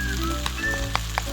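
Vegetables such as cabbage, onion and green onion go into a dakgalbi pan with the rest of the seasoning sauce, giving a close, crackling sizzle over a low hum, with a couple of light taps.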